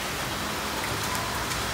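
Steady, dense downpour in Kobe, Japan, hissing continuously, like heavy rain falling on surfaces nearby; no voices.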